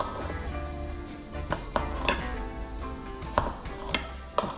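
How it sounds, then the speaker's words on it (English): A knife cuts a red onion on a board in a home kitchen. Irregular sharp taps and clunks come up close, with a few louder knocks toward the end over a faint background hum. "I'm just chopping the onions off."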